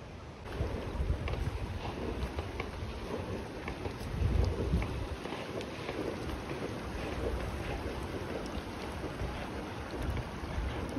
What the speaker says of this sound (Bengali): জলের আওয়াজ কি সুন্দর না